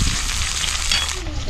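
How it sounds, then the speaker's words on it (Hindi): Steady, loud sizzling of onions frying in hot oil, close up, continuous with no pauses. "इसको देखिए चला देते हैं और तड़का थोड़ा लाल कर लेंगे प्याज से"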